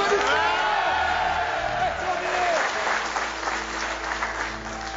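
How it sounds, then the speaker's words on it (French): A studio audience applauds loudly and steadily with scattered whoops and cheers, on a French TV show where a team offers a struggling couple free electrical installation for their house. "Applaudissements!"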